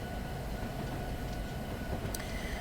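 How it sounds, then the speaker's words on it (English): A coal train on Union Pacific's Pleasant Valley line in Train Simulator 2019 rumbles along steadily, a low continuous rolling drone with faint rail noise and one brief squeal near the end, no voices. "I'm going to have to start to slow the train down."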